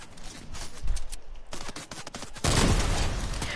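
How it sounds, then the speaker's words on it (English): Gunfire in a video game shooter crackles in dense, rapid bursts, getting heavier and louder toward the end, with no talk over it. "Who's shooting at you now?"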